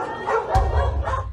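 Pet dog being abused by a man, giving short yelping barks and whimpers, with a sharp yip in the middle over a low rumbling background, fairly close and loud.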